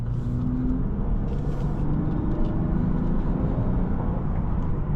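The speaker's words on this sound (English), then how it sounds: "these drive really well, very comfortable, and that V6 sounds nice" A 2025 Lexus IS 350 F Sport V6 cruises at steady speed, its low engine drone blended with road and wind noise, heard from inside the cabin throughout with no voices.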